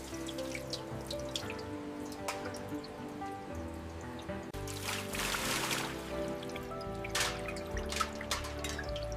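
Running water rinses caviar roe, with trickling and dripping through a sieve during processing, a steady close splatter that grows heavier partway through.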